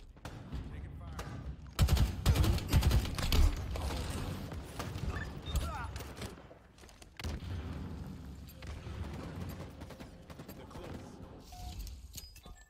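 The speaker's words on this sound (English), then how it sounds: "Taking fire." Bursts of gunfire from a Halo Infinite ranked match, loud rapid shots clustered early then continuing more sparsely, mixed with game effects and voice callouts over a steady background.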